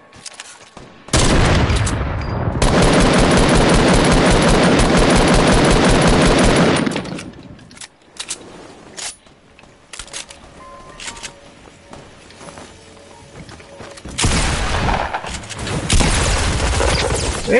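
Loud sustained automatic gunfire in a competitive video game match, a long burst up front, scattered quieter shots in the middle and another heavy burst at the end.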